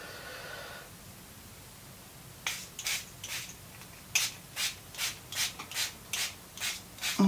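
Water misted from a spray bottle onto fabric stretched in an embroidery hoop, a burst of short, sharp hissing sprays in quick succession after a quiet start, close up and alone.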